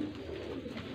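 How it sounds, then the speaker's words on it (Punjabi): Gojra breed pigeons at a breeder's loft in Faisalabad give a brief, soft cooing, low and steady against a murmuring background. "ਆਹ ਜਨਾਬ ਗੋਜਰੇ ਵਾਲਾ ਕਬੂਤਰ"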